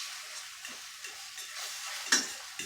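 A spatula stirs food in a pan over a low fire, with soft scraping strokes and a gentle sizzle beneath, plus a sharper metallic clink near the end, quiet and close.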